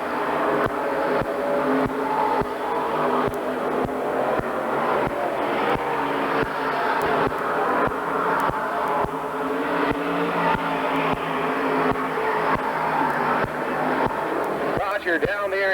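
Race cars at Oswego Speedway roar steadily along the back straightaway during the final lap of a 30-lap Syracuse qualifying feature, a continuous loud engine drone with a race announcer talking over it throughout.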